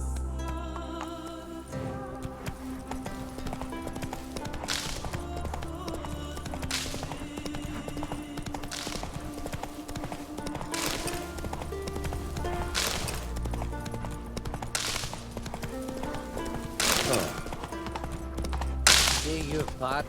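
Roach the horse trotting in The Witcher 3, steady clip-clop hoofbeats running throughout, with musical background and occasional louder thuds, no clear speech.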